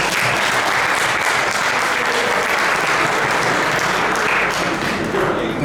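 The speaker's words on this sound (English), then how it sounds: "You got your round of applause, so I don't have to ask for it." An audience applauds a speaker at a panel event with loud, continuous, full-room clapping that holds steady for several seconds, a few soft thuds mixed in, and no voice breaking through.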